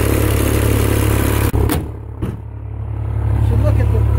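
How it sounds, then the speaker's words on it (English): Loud, steady engine drone of a Volkswagen Jetta converted to run on waste vegetable oil, idling close by with a brief clatter and dip midway before the heavy running continues. "Here's the engine. I have no idea what they've changed or what they've done,"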